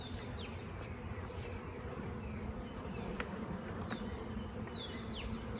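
A honeybee swarm hums inside a flowerpot swarm trap, a soft, steady, continuous buzz with individual bees zipping past now and then, no voices present.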